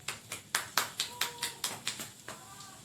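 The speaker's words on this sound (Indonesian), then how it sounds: "Ya, tepuk tangan untuk kelompok 3." Classroom applause for a presenting student group: about ten distinct, sharp claps in a loose, steady rhythm, close and moderately loud, with a faint background murmur and no clear speech.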